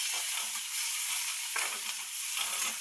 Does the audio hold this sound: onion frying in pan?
yes